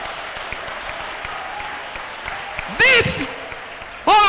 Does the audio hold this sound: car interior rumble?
no